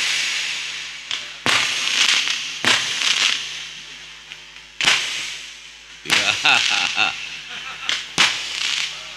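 Firecrackers exploding outside during a lively religious lecture in Jakarta, a rapid string of sharp, loud cracks and pops in irregular bursts, with someone talking over and between the bangs.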